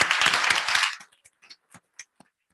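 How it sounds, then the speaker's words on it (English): Audience applause at a board meeting, a burst of clapping that lasts about a second and then thins to a few scattered claps. "Could we give them a round of applause?"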